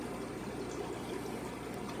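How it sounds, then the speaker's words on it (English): Water runs steadily through a hang-on-back aquarium filter, a constant close trickling and pouring wash with no breaks and no voices. "you see the water comes in right here, flows around, and then comes back out"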